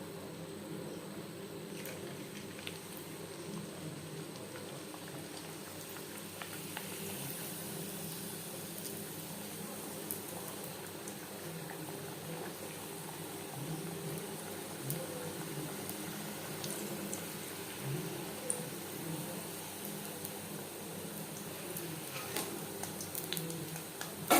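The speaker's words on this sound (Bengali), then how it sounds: "এইভাবে প্রত্যেক ব্যাচের পাপড়ি ভেজে নেব।" Papri dough crisps bubbling and frying in hot oil, one batch after another, a steady soft crackling hiss with scattered faint pops throughout.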